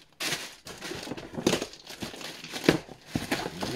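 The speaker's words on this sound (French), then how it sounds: "on s'en vient déballer tout le merdier" Plastic and paper packaging crinkles and crumples in close, loud bursts as a parcel is unwrapped with a small butter knife, irregular rustles filling the short stretch without speech.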